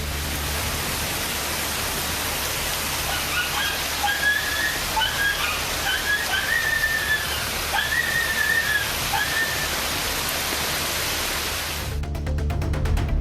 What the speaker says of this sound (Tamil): திடீரென்று கருமேகங்கள் சூழ்ந்து மழை கொட்டியது